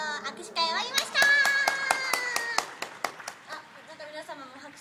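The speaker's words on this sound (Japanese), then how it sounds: "皆様も拍手していただいてるんですけども" A small group clapping after a handshake event in Kyoto, sharp distinct claps in an irregular rhythm close by, with speech and bright voices over the first half.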